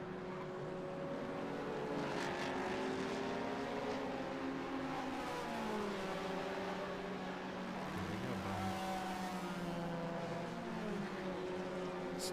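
An Audi race car running at speed around the Road America circuit, its engine a loud, steady drone with layered tones shifting as other cars pass, continuous throughout with no talk.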